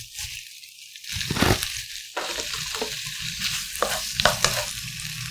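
Squid with green onion oil stir-fried in a hot pan for Korean spicy ojingeo bokkeum: steady sizzling with bursts of scraping and stirring, close and fairly loud, no talk.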